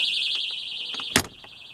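A shrill, steady electronic alarm tone from a TechNaxx TX-100 motion detector in an Airstream Basecamp trailer pulses rapidly, then a sharp clunk like a door closing cuts in near the end.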